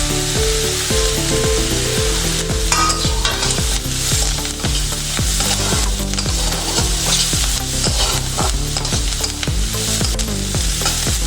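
Chopped ginger and garlic dropped into a salted pot for chicken soup: a loud, steady sizzle runs throughout beneath a prominent repeating musical backing.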